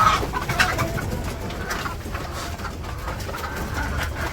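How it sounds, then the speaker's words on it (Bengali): A hen clucks outdoors in a village yard while restless and about to lay an egg, soft repeated clucks amid other bird calls and a steady low background rumble. "এই মুরগিটা মনে হয় ডিম পারবো"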